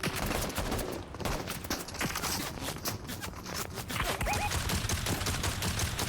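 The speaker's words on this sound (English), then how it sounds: "Somebody's shooting." Gunfire in a video game, sounding as a dense run of overlapping shots, steady and fairly loud across the whole stretch with no speech.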